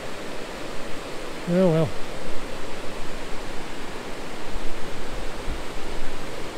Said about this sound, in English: Can't really see the waterfall from here.